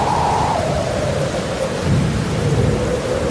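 Thunder rumbles low and heavy over steady pouring rain, loud and continuous throughout the short stretch.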